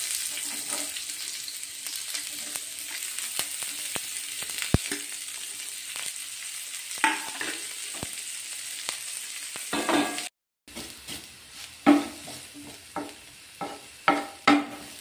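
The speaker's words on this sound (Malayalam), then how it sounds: "നമുക്ക് ഈ ഉള്ളി ഒന്ന് വഴറ്റിയെടുക്കണ്ടേ." Onion and ginger sautéing in coconut oil in a pan make a continuous close sizzle with frequent spoon scrapes and taps, a brief cut of silence near the end, and no speech.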